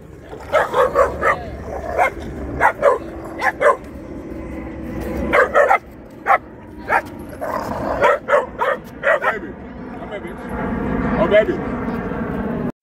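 Puppies play fighting bark and yip in rapid bursts, with whimpers and scuffling between them, close and loud, and a person's voice now and then.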